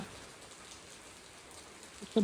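Soft, steady patter of rain, faint and even throughout, with a slight rise in loudness at the very end.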